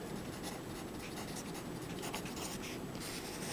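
A pen scratches steadily across notebook paper as someone copies a lesson by hand, a soft, continuous scratching that stays faint and close, with no speech.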